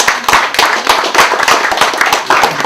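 A theatre audience claps for the authors of a play, a brisk, close round of hand claps with a steady uneven rhythm and no talking over it.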